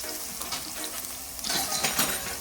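Minced garlic fries in olive oil in a pan with a soft, steady sizzle that grows brighter and louder toward the end, with no talking.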